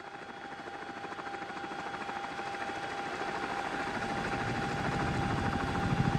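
A helicopter in a video game flies steadily at night with a constant rotor thrum and engine whine, a simulated sound that gradually grows a little louder.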